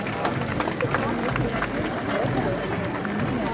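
Crowd applause for an emperor character arriving up the stairs at a historical Spectaculum festival in Zittau in 2013: dense, steady clapping from a large outdoor gathering, with no break for the full stretch.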